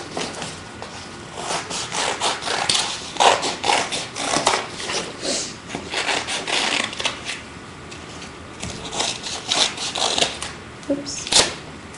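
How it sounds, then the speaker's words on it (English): Scissors snip and crunch through folded paper while a fish shape is cut out, giving a steady run of close, crisp cutting and rustling sounds with short pauses between strokes. "keeping the paper folded, you're going to cut out your form"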